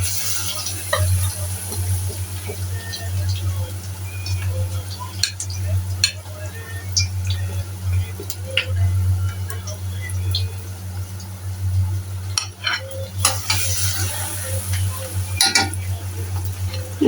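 Battered cauliflower florets fry in hot oil with a steady close crackling sizzle, punctuated by occasional clinks and scrapes of a utensil against the pan.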